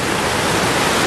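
Rushing river water at Banalore Falls, a loud, dense, unbroken roar of churning water close by, with no other sounds over it.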